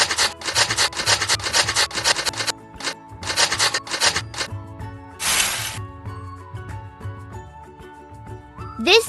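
Cartoon food grating for homemade pizza: repeated quick rasping strokes in bursts, loud and close, alongside a brief spray-like hiss and light musical tones.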